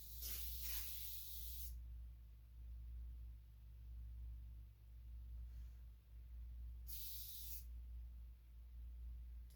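Oily spider spray hissing from an aerosol can in a mud room, with two short bursts, one near the start and another near the end, against a steady low hum.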